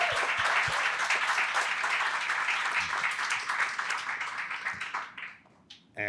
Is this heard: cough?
no